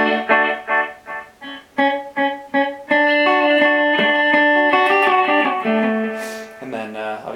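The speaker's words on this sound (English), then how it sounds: "So that's just a simple delay" Plucked electric guitar notes through a Line 6 Spider Valve MKII 1x12 amp's delay repeat and trail off in echoing copies, then a sustained chord rings out with lingering repeats.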